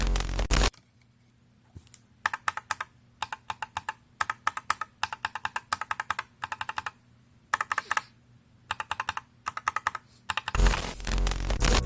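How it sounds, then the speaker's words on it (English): Mechanical keyboard switches, one set lubed and another lubed and filmed, typed in repeated short bursts of clicky keystrokes with quiet gaps between them; the strokes are crisp and close, with no voices. "Here's a sound comparison comparing a lubed versus a lubed and film switch."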